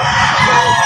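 Chickens cluck and a rooster crows in a farmyard pen, loud and close, in a single short dense burst of fowl noise.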